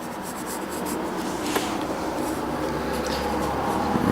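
A pencil sketches a jacket figure on paper with quick scratchy strokes, a continuous close rustling scrape throughout with no talking.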